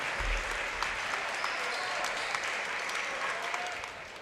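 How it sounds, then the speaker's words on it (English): Steady applause fills a high school basketball gym during a McCracken County versus Paducah Tilghman game, a dense, even wash of many hands clapping that carries on without a break. "A much-deserved, wonderful ovation for Noah Dumas."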